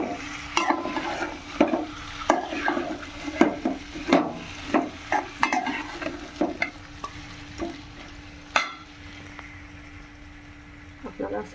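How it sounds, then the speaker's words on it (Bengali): Marinated chicken frying with onions while being stirred, with a continuous sizzle and frequent sharp spatula scrapes and knocks against the pan, loud and close, under occasional talk. "আমি এবার কিছুক্ষণ মাংসটাকে নাড়বো,"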